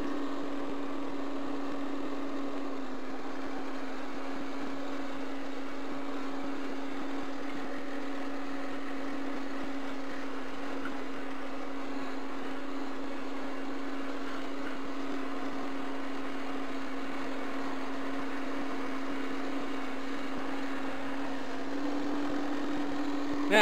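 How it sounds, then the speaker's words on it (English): Farm tractor engine running steadily while a hay rake sweeps cut grass on a homestead, a constant mid-distance hum with no talk over it. "And then you put your tractor in gear"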